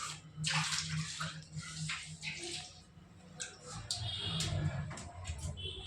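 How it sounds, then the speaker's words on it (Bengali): Water splashes and sloshes across the floor of a 300-year-old family temple as it is washed, close and fairly loud in uneven surges with scattered drips and knocks. "আমি এখন মন্দিরটা পরিষ্কার করে নিচ্ছি, জল দিয়ে ধুয়ে নিচ্ছি।"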